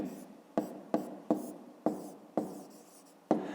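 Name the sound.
writing on paper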